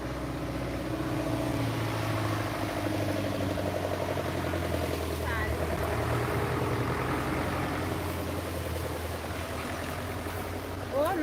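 A steady tractor engine rumbles and drones throughout at moderate volume, with faint voices talking in the background.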